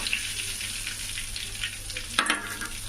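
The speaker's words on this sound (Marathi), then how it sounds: "आणि याच्यामध्ये या तेलामध्ये आपण दुसरे पीस टाकूया" Pieces of pomfret fish fry in hot oil with a steady close sizzle, and a sharper burst of spitting near the end as oil flares, with no voices.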